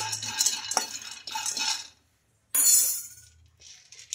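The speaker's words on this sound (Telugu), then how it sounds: "ముందుగా ఇంకా స్టవ్ అయితే ఆన్ చేసుకొని కడాయి పెట్టేసుకొని ఇంకా పల్లీలు అయితే వేసుకున్నానండి" Peanuts tossed in a dry kadai on the stove, rattling and clinking against the metal in bursts of stirring with a short pause between, close and fairly loud.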